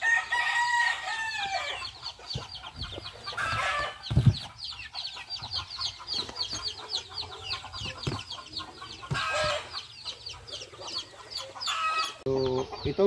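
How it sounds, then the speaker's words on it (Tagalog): Native chickens clucking steadily with a rooster crowing loudly several times, layered calls close by with no talk. "So, ito mga manok."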